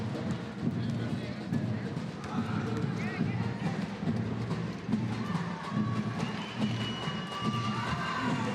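Basketballs bounce and squeaks sound during a wheelchair basketball game featuring Brazil at the Santiago 2023 Parapan American Games, while the crowd makes a low, continuous noise and a commentator talks throughout.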